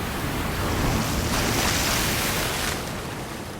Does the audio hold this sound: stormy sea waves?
yes